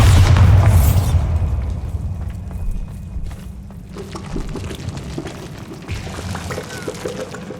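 Bombarda blasting spell detonating in Hogwarts Legacy, a heavy booming explosion at the start that rolls off into a lingering low rumble with scattered debris clatter and ambient noise.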